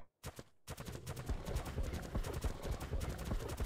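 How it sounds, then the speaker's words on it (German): A horse gallops in the video game ARK, its hoofbeats a rapid, dense run of loud thuds that keeps going after a brief silent gap near the start. "Hier rennt ein Pferd rum."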